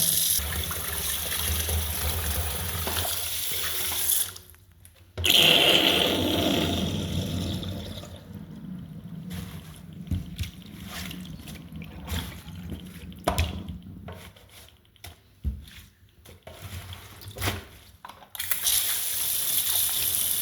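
Running tap water splashes over amaranth greens being rinsed, with intermittent gushes and brief pauses as the flow stops and starts.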